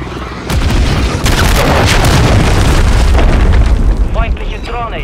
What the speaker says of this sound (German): Feindlicher Marschflugkörper im Anflug.